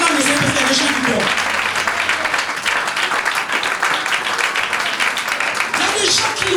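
A church congregation applauds and cheers for the Lord during a French-language sermon, with steady, dense clapping and crowd noise lasting throughout at close range.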